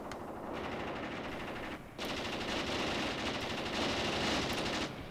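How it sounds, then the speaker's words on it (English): Sustained machine gun fire from the Graviteam Tactics war game rattles in rapid continuous bursts, loud and dense, with a short pause before the firing resumes and carries on to the end. "The machine gun fire is too much for them."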